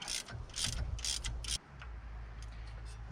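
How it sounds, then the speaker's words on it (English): A ratchet wrench loosens the nut on the shaft of a GM Harrison R4 AC compressor in a 1988 Chevy Suburban, giving close, loud bursts of rapid ratcheting clicks separated by brief pauses, with no talking. "So I'm going to loosen this nut."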